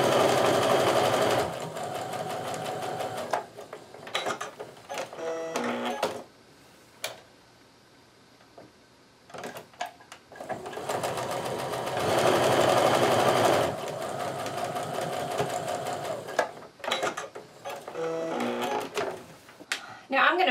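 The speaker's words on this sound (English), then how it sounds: "we're going to sew a scant quarter inch seam down either side of this drawn line" A sewing machine stitches a scant quarter inch seam on a patriotic quilt, running in two long close bursts with shorter ticking stops and starts between and around them.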